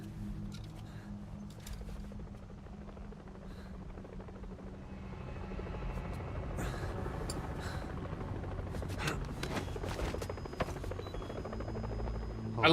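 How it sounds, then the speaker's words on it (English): Helicopter arriving in Metal Gear Solid V, a low rotor thrum that grows steadily louder as it approaches, with sharp game clicks and effects scattered over it. "this is where the helicopter's coming"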